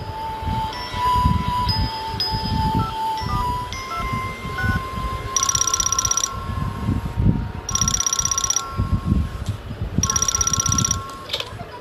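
A home telephone rings in three evenly spaced bright, trilling bursts over steady background music in a cartoon scene.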